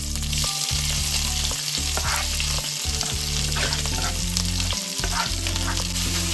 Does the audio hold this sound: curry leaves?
yes